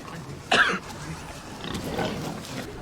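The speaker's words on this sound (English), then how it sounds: "Ah, they're feeding the pigs." Pigs being fed in a scene from the historical drama The Last Kingdom: a single brief, loud grunting snort rises over a low murmur, followed by softer, muffled rustling and snuffling.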